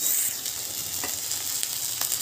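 Moong dal fries in a pan with a steady, close sizzle and crackle, punctuated by a few sharp pops and light stirring scrapes, with no talking.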